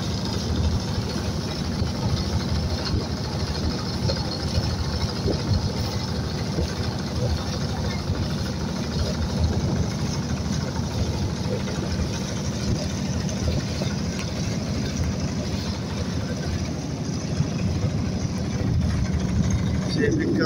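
A motor boat engine drones steadily on Jobai beel lake, a continuous low rumble heard from on board, with people talking over it.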